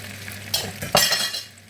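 Fish and red oil rice are stirred in a pot over heat, with a soft sizzle running beneath two or three close scraping turns of a spoon against the pot.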